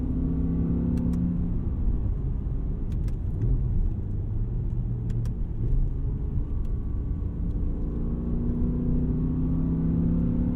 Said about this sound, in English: You can hear the grumble of the V10.